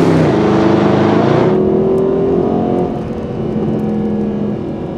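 A Mercedes-AMG car accelerates at full throttle down a straight at Laguna Seca, the engine note loud and close as it climbs steadily and then eases slightly, with no talking.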